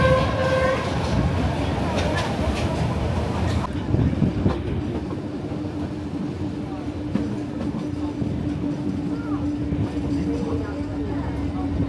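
A train bound for Bagan, Myanmar, rumbles steadily along the rails with a continuous low roar and faint rhythmic clatter, a brief squeal early on, and a voice speaking over it.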